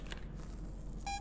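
A short electronic beep from a cleanup tool in the Viscera Cleanup Detail video game sounds once near the end, faint over a low steady hum.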